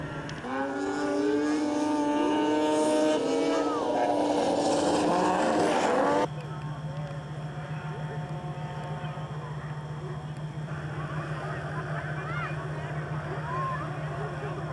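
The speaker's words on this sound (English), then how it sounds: "The Open Class Men's 50-mile track race and the Open Class Women's 30-mile race is the main attraction for owners of snowmobile muscle sleds." Open-class snowmobile muscle sleds race around a track at a spring jamboree. Their engines make a continuous high-revving roar that rises and falls as the sleds pass, under steady talk throughout.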